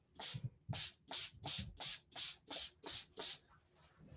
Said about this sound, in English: I don't know if I like this spray as much.